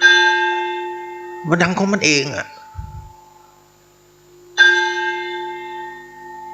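A large temple bell at a Thai monastery rings with a long, clear, slowly fading hum. A voice speaks briefly over the decaying tone, then the bell is struck again loudly near the end.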